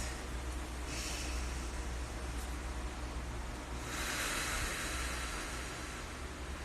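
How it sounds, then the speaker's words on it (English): Slow, deep breaths of air rush in and out up close, with two long, airy swells separated by a quiet pause. "So we'll just start with our 3 deep breaths."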